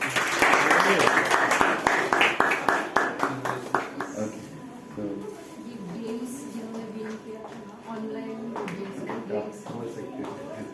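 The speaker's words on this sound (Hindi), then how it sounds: "तालियां बजाओ।" Audience applause at a Sunday evening church service: dense, loud clapping for about four seconds that fades into spoken voices.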